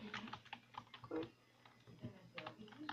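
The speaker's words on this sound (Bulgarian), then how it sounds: "Ох, клавиатура." A computer keyboard is typed on during a game session, giving a quick, uneven clatter of close keystrokes with a faint voice underneath.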